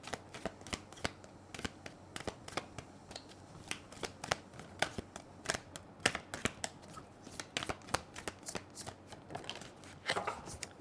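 Tarot cards are shuffled by hand, producing a long series of crisp, sharp riffling snaps and taps at an irregular pace, close and fairly quiet, with no voice over them.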